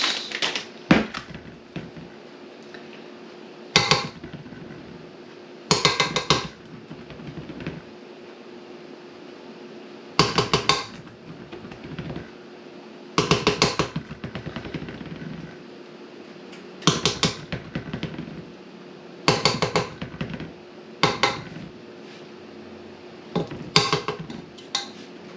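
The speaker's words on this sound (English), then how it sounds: "going to fold in some chocolate chips" Chocolate chips are folded into sugar-free cookie dough in a bowl, giving repeated scraping and clattering bursts every couple of seconds, close and crisp, with quiet gaps between strokes.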